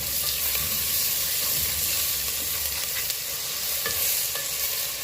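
Onion and garlic being sautéed with half a teaspoon of salt in a pan for Kerala country chicken curry, a steady sizzle with scraping stirs throughout, close and moderately loud, no talking.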